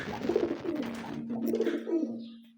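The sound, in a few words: pigeons cooing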